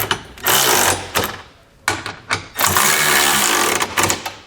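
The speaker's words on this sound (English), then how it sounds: "Now I'm going to come back with a 17mm socket and just snug it down." A 17mm socket on a ratchet wrench snugs down the hardware of a Curt trailer hitch receiver on a 2021 Kia Telluride, giving several loud, close bursts of rapid ratcheting separated by short pauses.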